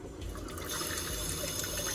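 Water poured slowly from a cup into thick flour batter for Puerto Rican bacalaitos, a steady close liquid splash and trickle lasting about two seconds with no talking.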